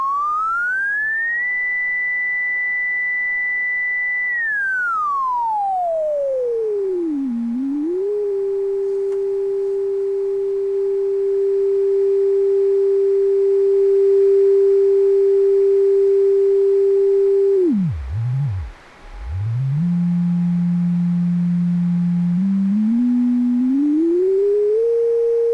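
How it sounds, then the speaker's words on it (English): Clean 10 GHz tone from an LO synthesizer being swept in frequency, a steady whistle-like pitch that rises, holds, glides down, sits level for a long stretch, dips sharply, then climbs again, loud and alone. "listening to the tone at 10 gigahertz and we'll see how clean it is"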